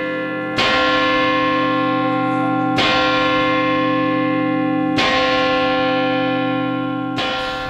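Church bells of Ferrette ringing slowly, four loud, resonant strikes about two seconds apart, each leaving a long shimmering hum that carries into the next, with no voices.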